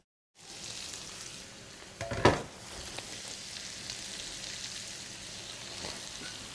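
Bacon and smoked salmon skewers sizzle steadily in a pan, a constant close hiss with one brief louder crackle and clatter as they are turned.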